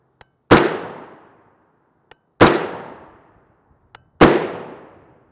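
Three .300 AAC Blackout rifle shots firing Tula 125-grain FMJ ammunition outdoors in daylight, evenly spaced sharp loud cracks with short decaying tails, each preceded by a faint click.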